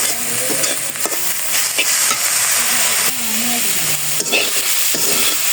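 Salted food for a Jagannath offering fries in a pan with a steady sizzle and hiss, broken by occasional stirring scrapes and clanks, close and fairly loud throughout.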